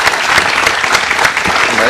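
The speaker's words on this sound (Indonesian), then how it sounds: "Tepuk tangan buat Denny." Brief burst of studio audience applause on an Indonesian TV health talk show, dense and loud clapping throughout.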